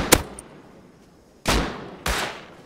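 Three sharp gunshots in the survival game Rust, fired on their own, with one at the start and two close together near the end, each loud and followed by a decaying echo.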